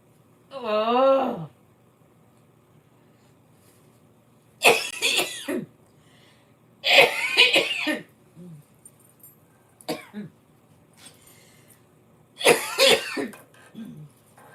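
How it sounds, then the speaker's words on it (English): A person coughs in several separate bursts, loud and close, with short gaps of breathing between fits and a brief strained vocal sound at the start. "Am I going to spend the next 20 minutes just coughing?"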